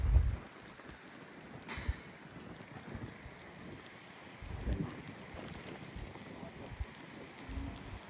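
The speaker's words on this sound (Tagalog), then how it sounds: "Malakas ang ulan kaya hindi tayo makapurma" Heavy rain pours down steadily at Tenby beach in Wales, a constant hiss with low rumbling gusts and a few louder bumps from nearby.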